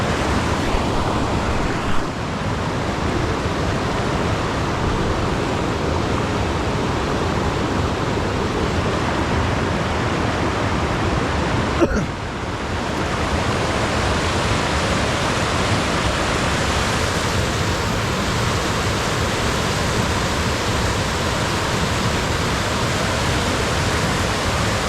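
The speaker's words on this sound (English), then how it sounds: "What a great way to start the park off at a waterfall." The waterfall at Sauble Falls Provincial Park gives a constant, dense rushing roar of falling water, steady and loud for the whole stretch apart from a brief dip midway, with no voices.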